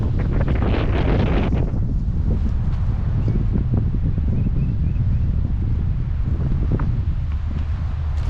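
Strong wind on an outdoor disc golf course buffets the microphone with a loud, steady roar and rumble for the whole stretch, with no voices.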